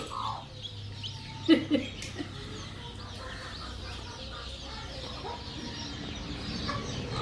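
A hen gives a couple of soft clucks early on, then quiet outdoor ambience continues with no further calls.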